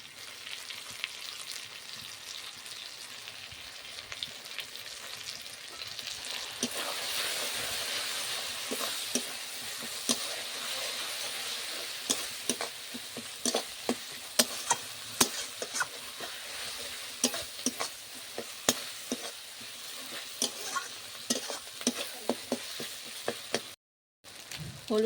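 Kashmiri chili powder fries in hot oil for a chicken curry, giving a steady sizzle that grows louder as the pan is stirred, with repeated clinks and scrapes of a spoon.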